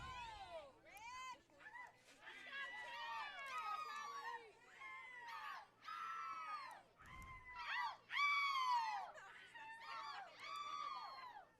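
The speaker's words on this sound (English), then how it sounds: "we are in the midst of the crowds here for this first round game versus Lexington, so you're going to hear a lot more of the atmosphere" Crowd at a high school softball state tournament first-round game: many high-pitched youthful voices shouting, cheering and chattering together in continuous overlapping waves, fairly close, with a brief thud partway through.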